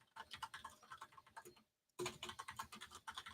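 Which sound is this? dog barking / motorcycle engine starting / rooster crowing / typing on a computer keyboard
typing on a computer keyboard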